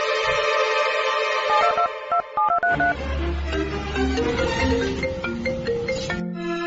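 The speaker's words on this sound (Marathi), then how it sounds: "बाबाला फोन लावू दे मले फटक्यात" A series of phone dialing tones, short beeps at varying pitches in quick succession, followed by a steady tone, loud and close.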